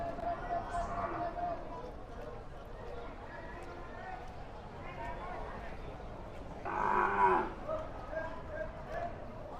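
Water buffalo mooing at a livestock market, a few low calls with one louder drawn-out moo near the end, amid market bustle while people talk throughout.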